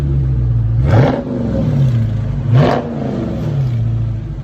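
Two sharp revs a couple of seconds apart from a 2020 Dodge Charger Scat Pack 6.4L HEMI V8 with dual exhaust and mid-muffler delete, each a quick throaty roar over a steady low idle rumble, recorded up close.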